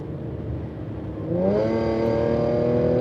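An Audi S4's supercharger whines as the engine builds speed, a steady hum that rises into a bright, sustained tonal whine and holds loud and close without any talking.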